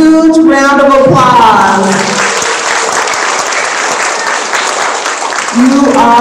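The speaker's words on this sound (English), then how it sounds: "let's give ourselves a huge round of applause" Applause from a school class at a second grade awards program fills the room loud and steady, with a voice speaking over the start and again near the end.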